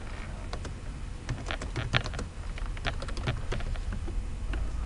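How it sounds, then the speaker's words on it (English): Typing code on a computer keyboard, a close, irregular run of quick key clicks and taps with brief pauses, moderately loud, with no voices. "you can then start typing lines of code as you need to"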